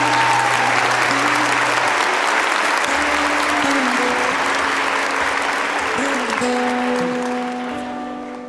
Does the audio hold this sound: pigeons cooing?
no